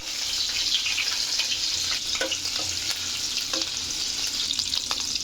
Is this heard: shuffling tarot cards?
no